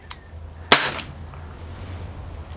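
A Gamo P-25 air pistol loaded with 8-grain pellets fires one sharp, loud crack at close range after a faint click, then fades into quiet room noise.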